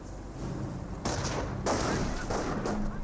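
Dense gunfire from a World War II battle in Company of Heroes, with a steady crackle of shots and heavier bursts near one second and just after one and a half seconds, continuing without a pause.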